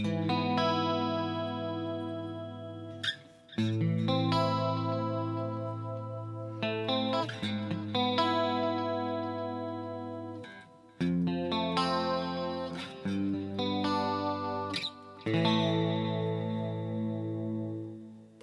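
Clean-channel electric guitar through echo and chorus effects, played for a musical theater reprise: sustained ringing chords and single notes in phrases, each swelling and shimmering with repeats before changing, undistorted and alone.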